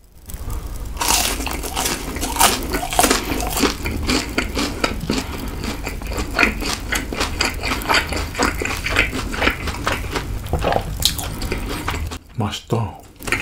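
Crunchy boneless garlic fried chicken is bitten and chewed up close in a Korean-style mukbang, with dense repeated crackling crunches and wet chewing sounds, then a brief pause near the end.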